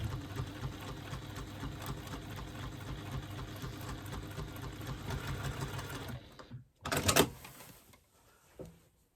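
A sewing machine stitches a quilt in a long wiggly line: a steady, fast, even whirring rattle runs for about six seconds, then stops, followed by a short burst of the motor and a soft thump.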